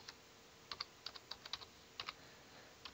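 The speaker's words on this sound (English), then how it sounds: "we want to type in" Quiet keystrokes on a computer keyboard, tapped in short irregular bursts of a few clicks each with brief pauses between, close and faint in a quiet room.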